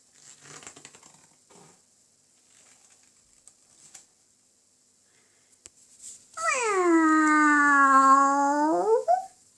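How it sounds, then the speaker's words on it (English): Howling animal effect in a dark forest scene for a children's audiobook, coming after faint rustling and quiet patter: a single long, wavering, rising-then-falling howl, close and loud, sounding on its own. "Something howled behind them."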